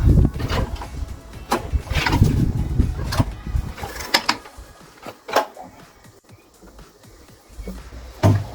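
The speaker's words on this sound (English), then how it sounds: "Fuel on, choke to cold start, turn it on" A petrol engine on a pressure washer is cranked from a cold start with the choke on, giving several loud, close pull-start bursts that sputter and die away between attempts, with quieter gaps.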